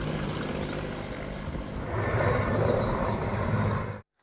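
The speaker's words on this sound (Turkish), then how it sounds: "8 uçak ve 12 helikopter söndürme çalışmalarına katıldı" Firefighting planes and helicopters flying over a forest fire near Eceabat, Çanakkale, a steady loud engine and rotor roar that swells midway and then cuts off abruptly.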